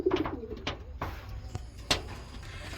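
Pigeons of two breeds coo in a loft, a few soft, rounded calls near the start, then scattered sharp taps and rustles, with faint voices in the background.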